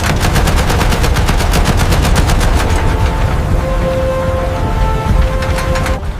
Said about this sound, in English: The internal pneumatic motor spins the massive 6-barrel Gatling gun assembly. And it opens fire!